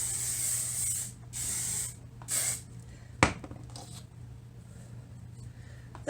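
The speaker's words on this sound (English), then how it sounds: "flat iron spray" Two short hissing bursts of flat iron spray from a spray bottle onto hair, then a sharp click and quieter rustling afterward.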